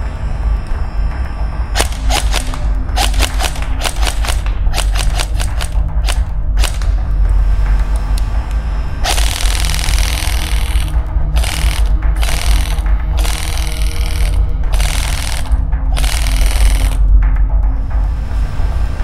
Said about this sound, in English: notice on that one, I started dry firing a little bit, the bolt did not lock back